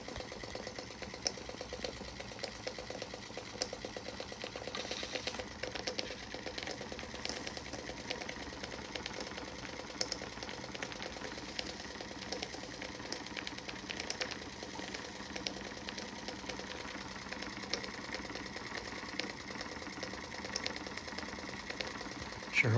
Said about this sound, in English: It's a great little engine. It runs fantastic.